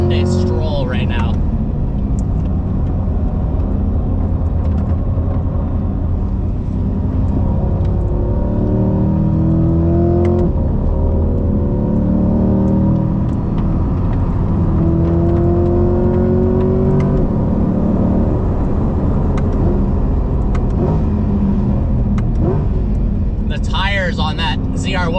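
Corvette ZR1 on track, fitted with 345 Cup 2R tires and heavy aero, the engine droning and rising through gears as the car runs, with a person talking loudly over it throughout.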